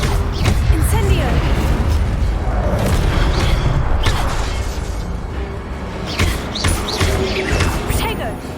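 An Incendio fire spell being cast in the video game Hogwarts Legacy, heard as loud booming bursts and crashes within dense, continuous combat effects, with spoken spell incantations over the top.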